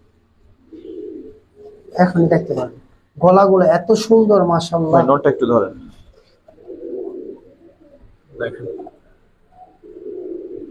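Gribaz silver chila pigeons, a male and a female, give soft low coos in short bursts between stretches of close, loud male speech.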